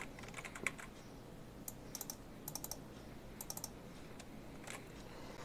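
Keyboard typing as a database password is entered, a few quick bursts of key clicks with short pauses, close and fairly quiet over a steady low hum.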